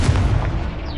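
Confringo blasting spell explosion in Hogwarts Legacy, a single heavy booming blast with a rumbling decay, loud and close.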